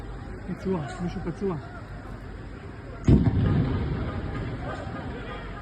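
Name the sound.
sporadic gunfire in a city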